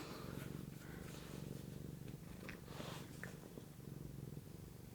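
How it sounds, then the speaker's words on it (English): A pet cat purrs close and steady, a continuous low rhythmic rumble with a few faint small sounds over it and no clear talk. "She's purring."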